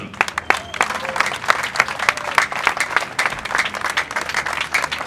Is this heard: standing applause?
yes